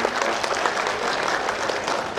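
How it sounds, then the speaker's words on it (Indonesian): A graduation ceremony for bachelor's degree graduates in 2016 fills with dense, steady applause from a large seated crowd, an even wash of clapping that continues without pause. "Mohon tepuk tangan."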